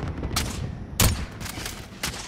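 Video game gunfire as a player shoots and misses: four sharp, loud shots spread irregularly across a couple of seconds, with the second shot the strongest, over a steady background of game noise.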